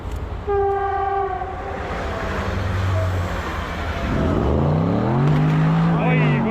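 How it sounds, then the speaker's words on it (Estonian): A train passes by near a forest trail while 4x4 off-road vehicles are out on New Year's Day, its horn sounding early as a loud steady tone over rumbling wheels and engine noise, with people talking. "Rong, näe, lehvitage rongile."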